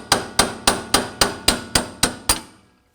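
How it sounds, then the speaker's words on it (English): A hammer strikes a punch, knocking loose a transmission cooler line on a 1999-2007 Chevy Silverado: nine sharp, evenly spaced metallic blows in quick steady rhythm, close and loud, with no talk. "I'm just going to use a punch and my hammer and see if I can help it along."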